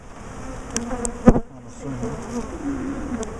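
Agitated honeybees buzzing during a top bar hive inspection, a faint wavering hum with individual bees zipping past close, while a person speaks briefly over it.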